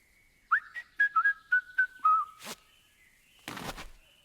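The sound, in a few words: whistling twice in video game Truberbrook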